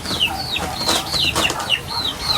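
Chickens cluck in repeated rising calls close by, with bursts of flapping wings mixed in, steady and fairly loud throughout with no voices.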